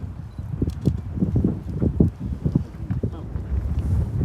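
Strong wind gusts buffet the microphone at Yellowstone's Grand Prismatic Spring, a low rumbling roar with irregular thumping bursts that rises and falls throughout, with a voice faintly mixed in.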